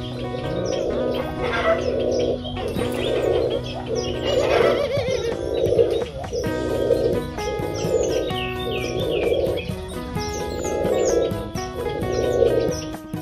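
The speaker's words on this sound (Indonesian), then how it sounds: "burung puternya langsung dibekurin sama burung merpater" Turtledoves and pigeons in an aviary keep up a steady run of soft, rhythmic cooing, repeated every second or so, with scattered chirps and wing flutters in the background.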